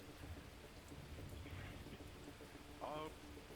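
Rain falls steadily in the video game Mayday, a soft continuous patter under faint low rumbles, with a brief voice sound partway through.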